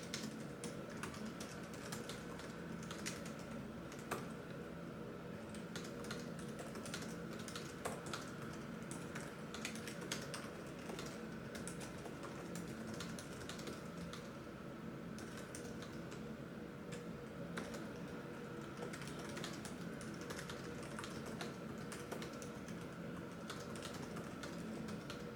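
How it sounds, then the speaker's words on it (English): Continuous fast typing on the keyboard of a StarLabs StarFighter laptop, a steady close patter of soft key clicks over a quiet room hum, with no talk. "Let's take a moment and listen as I type on monkey type."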